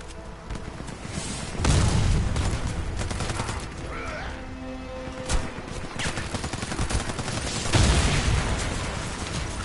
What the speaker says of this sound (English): Our vehicle is under fire.